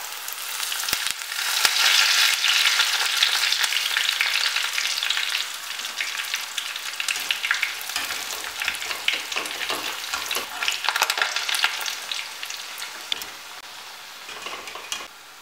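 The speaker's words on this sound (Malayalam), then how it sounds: "കക്കാവട മൂത്ത് തുടങ്ങിയിട്ടുണ്ട് നമുക്കിതിലേക്ക് എടുത്തു വച്ചിരിക്കുന്ന കറിവേപ്പില ഇടാം" Pakkavada, a Kerala snack, frying in hot oil with curry leaves added: a loud, continuous crackling sizzle, close up, with no voices.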